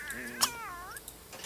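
A cat meows in a long, wavering, drawn-out call, clear and close, with a faint click partway through; a cat in the video game The Sims 3.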